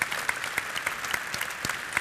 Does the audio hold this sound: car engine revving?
no